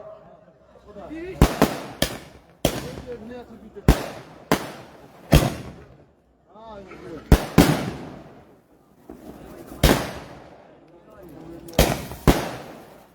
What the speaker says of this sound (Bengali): আতশবাজি দিয়ে শুভ উদ্বোধন।